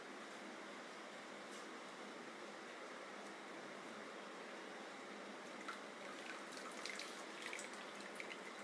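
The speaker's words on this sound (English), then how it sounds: "I am doing the wash in the running water to get the cooking process stopped" Faint, steady running water, like a tap flowing into a sink, with occasional soft drips and splashes as fresh chena in a muslin-lined strainer is rinsed.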